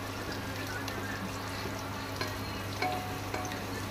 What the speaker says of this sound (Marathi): गाजर का हलवा मातशें ताका आमी फ्राय करून घेवया